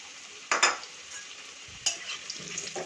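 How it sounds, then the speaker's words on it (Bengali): Potatoes go into hot oil with cumin with two bursts of loud sizzling, each fading back to a lower steady crackle while a utensil stirs. "জিরেটা যখন সোনালি হয়ে আসবে তখন আমি এর মধ্যে আলুগুলো ছেড়ে দেব। আলুগুলো ছেড়ে দিচ্ছি।"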